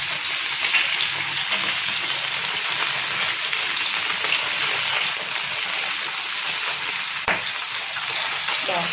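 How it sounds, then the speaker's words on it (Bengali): Fish heads fry in hot oil in a kadai, giving a steady, close sizzle and crackle throughout with a brief sharp tap near the end. "এবারে মাছের মাথার এই পিঠটাও ভালোভাবে ভাজতে হবে।"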